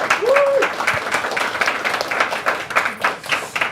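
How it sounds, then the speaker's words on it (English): Audience applause for panellists at an industry day leadership panel discussion, a dense steady round of clapping from a crowd filling the room, with a brief whistle-like tone near the start. "So a round of applause for our panellists, please."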